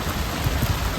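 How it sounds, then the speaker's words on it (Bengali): Heavy rain pouring on a boat on the river at Aricha ghat, a dense continuous patter and roar, close and steady with no voices. "দেখেন কি পরিমাণ বৃষ্টি"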